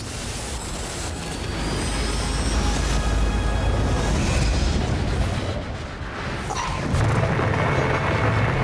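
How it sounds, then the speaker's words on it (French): A massive, continuous rumbling roar as a whole valley collapses, earth and rock falling, loud and dense throughout, swelling briefly after a short dip. "Une vallée entière s'effondre dans un fracas retentissant."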